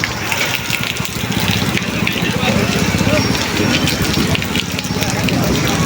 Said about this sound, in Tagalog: Ba, tuloy-tuloy na ang ulan